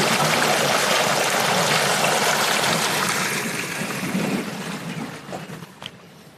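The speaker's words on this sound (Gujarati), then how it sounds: "પાણી ચાલુ થઈ ગયું" Water from a motor pump gushes into a wheat field on a village farm in the early morning, a loud, steady rushing flow close by that gradually thins and weakens toward the end.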